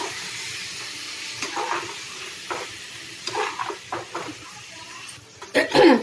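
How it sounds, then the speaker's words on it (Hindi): Chicken pieces fry in a little oil while being stirred until browned, with a steady hiss of sizzling, scattered scrapes of a spoon against the pan and a louder burst of spattering near the end. "इसको अच्छे से चिकन को एकदम लाल होते तक भूनेंगे हम।"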